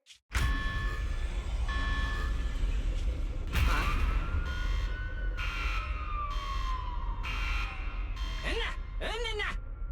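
Security alarm siren blaring in a video game, a loud continuous electronic tone with rising and falling sweeps that persists throughout, layered with game noise and a steady low rumble.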